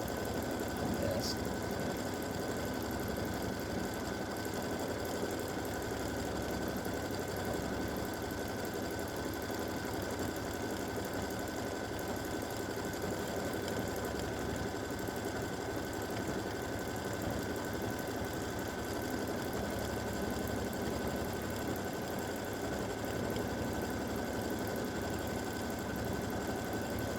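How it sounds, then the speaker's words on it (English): A quilting embroidery machine stitches at 700 stitches per minute, an edge-to-edge quilting design, a steady unbroken mechanical hum throughout, moderately close. "So I'm stitching at 700 stitches per minute"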